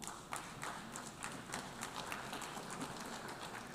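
Audience applause in the UN General Assembly hall, heard faint and somewhat distant as a steady patter of many hands clapping for a few seconds.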